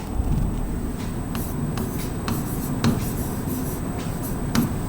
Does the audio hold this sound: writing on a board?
yes